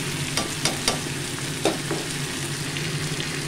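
Cauliflower fries in a pan as dry spices (salt, cumin, coriander, red chilli) go in, a steady close sizzle broken by several sharp spoon scrapes and taps as it is stirred, with no voices.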